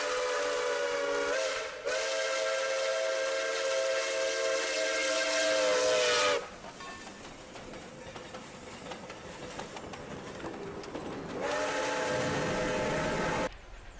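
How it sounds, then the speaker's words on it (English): Texas State Railroad 2-8-2 steam locomotive No. 30 sounds a loud chime whistle in a long blast after a brief short toot, then a stretch of steam hiss and rumble before another sustained blast, echoing in piney woods. "being able to hear the sounds of steam echo throughout the peaceful piney woods"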